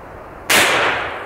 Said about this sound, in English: I flinch every time I shoot this thing.